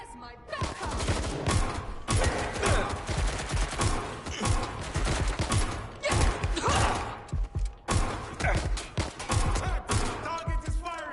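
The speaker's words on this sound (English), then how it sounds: "Target is firing." Watch Dogs: Legion game gunfire: dense bursts of shots and fusillade with heavy thuds, continuous and loud, with a voice briefly talking over the action.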